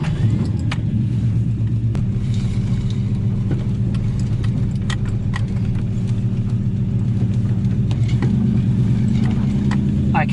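A Ford XW with a 351 Cleveland V8 pulls away, its loud, deep engine rumble steady and close throughout, the pitch shifting slightly as it drives off.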